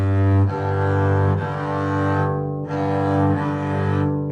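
Double bass harmonics sounded together for tuning in fifths: sustained, ringing overtone tones that overlap and swell, repeated in a few bowed-like strokes, close and loud with no talking.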